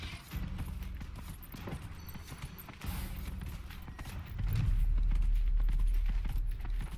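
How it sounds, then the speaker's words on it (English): Hooves pound rhythmically as a horse gallops during a race in Dragon Age: Inquisition. The beats are steady and mixed with game ambience, and they grow louder and heavier near the end. "And I am holding shift to gallop"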